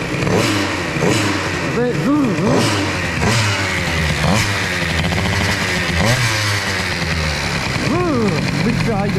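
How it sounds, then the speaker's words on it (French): A moped engine fitted with an Airsal XT 77 kit, revved in sharp repeated bursts of throttle that sweep up and down before hanging at a high idle, loud and close, with someone talking over it. "si je mets un gros coup de gaz après, le régime il veut plus redescendre"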